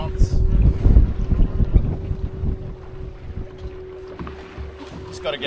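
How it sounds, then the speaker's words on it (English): A sailboat motor-sailing close along the shore of a remote island in strong wind, its engine droning at a steady pitch beneath gusty wind buffeting the microphone and water noise, loudest in the first seconds. "I'm motor sailing just close to the shore rather than try to attempt tacking out in the blow."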